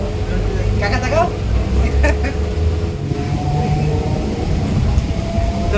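A passenger train departs a station with a continuous low rumble and drone, while people talk over it and a faint tonal whine rises partway through.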